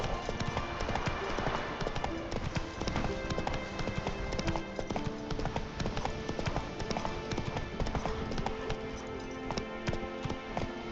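Geralt's horse Roach gallops at a steady pace in The Witcher 3, with rapid, continuous, loud clip-clop hoofbeats layered over game music and ambience throughout.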